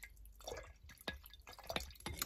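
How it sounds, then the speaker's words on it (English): Water dripping during a painting session, a series of quiet, distinct close drips in an irregular rhythm. "Now, that's the water you hear."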